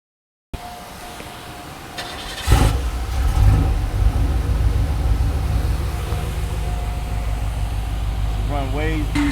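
A 1992 Cadillac DeVille engine, just recovered from hydro lock, cranks and catches, then settles into a steady running drone up close, with a short whine of the starter and some talking over it.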